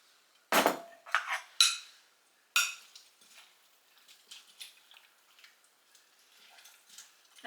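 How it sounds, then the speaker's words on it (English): Dry ingredients for an apple pie baked oatmeal are stirred together in a bowl: a few sharp utensil scrapes and clinks at first, then softer intermittent scratching, close and quiet, without speech. "we're going to mix this together"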